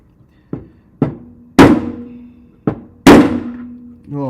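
Loud bangs while fitting bearings into a large robot, five sharp metallic hammer strikes at irregular intervals, close and ringing, two of them much louder, followed by a voice starting to speak.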